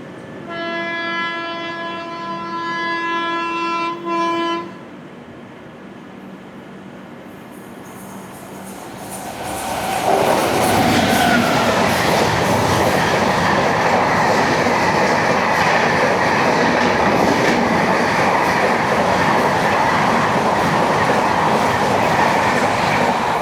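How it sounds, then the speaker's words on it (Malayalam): A prolonged horn sounds first, then the Tejas Express rushes past close by with a loud, sustained rumble and rhythmic wheel clatter that continues to the end. "അപ്പോൾ അങ്ങനെ തേജസ് എക്സ്പ്രസ് പോയി."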